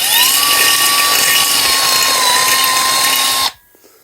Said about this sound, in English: Step 1, pilot hole drilled.